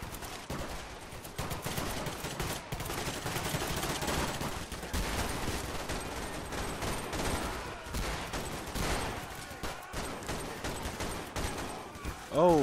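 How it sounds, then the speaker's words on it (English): Dense, continuous gunfire with machine-gun bursts and bullets whizzing past rages through a Garry's Mod cops-versus-robbers shootout, loud and sustained throughout. "A lot of bullets whizzing around my head."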